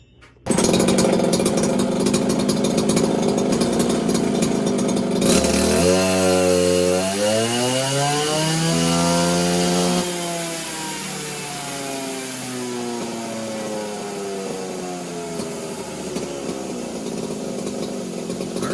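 A ported Poulan 3450 54cc chainsaw with a modified, opened-up exhaust runs loud and close, rising from a high buzzing idle into a sweeping rev that holds at full throttle and then settles to a steady drone.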